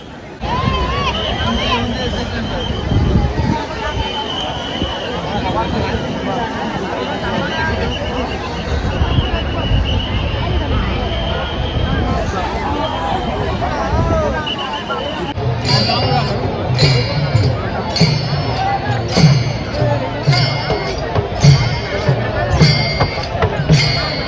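A large crowd of pilgrims gathered at the Nira river for the holy bath of Sant Dnyaneshwar's palkhi, a steady dense hubbub of voices and chatter throughout, growing busier with sharp clatter in the second half.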